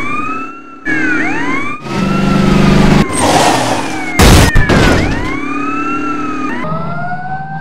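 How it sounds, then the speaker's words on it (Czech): A police car siren wails loudly and draws closer, its rising and falling tone sweeping over a revving car engine and road noise as the vehicle accelerates away. "Franku, to jsou poldové, šlápni na to"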